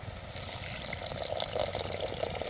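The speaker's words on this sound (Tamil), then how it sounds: "இப்போ ஒரு தேவையான அளவு நம்ம தண்ணி ஊற்றிக்கிறோம்" Water pours steadily into a cooking pot for crab soup, a continuous splashing stream heard up close for a few seconds.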